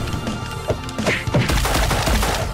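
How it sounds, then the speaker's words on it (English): Airstrike with gunfire in the arcade beat 'em up G.I. Joe: Wrath of Cobra, loud dense bursts of shots and crashing impacts rolling over each other for a few seconds, with no talk. "Call in the airstrike."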